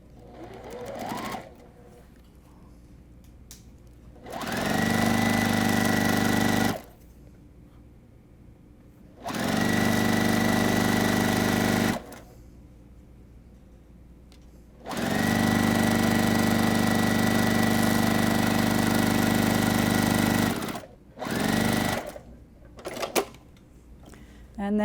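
Sewing machine stitching quilt fabric strips together into a strip set, running in three long steady bursts of loud, close mechanical whirring with quiet pauses between, while someone talks in the gaps.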